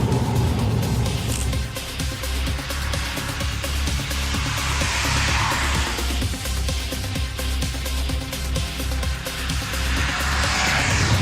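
A 2014 Subaru WRX STI engine and exhaust roar loudly and steadily while driving, a dense rumbling drone with wind and road noise and no talk.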